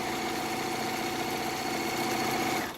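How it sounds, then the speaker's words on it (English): A sewing machine runs in a steady, fast mechanical whir while stitching half-square triangles for a quilt block, close and even throughout, then stops abruptly at the end. "raise my presser foot, and then I'll start sewing down here again"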